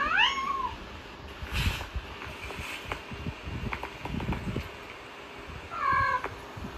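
A recording of a cat meowing is played to house cats, with two rising meows at the start and another near the end over steady background noise and scattered rustling.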